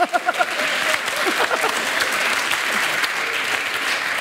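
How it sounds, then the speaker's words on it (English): A comedy-show audience breaks into applause, a few sharp claps first building quickly into a full, loud wash of clapping and crowd noise that carries on steadily. "You're giving yourselves a round of applause"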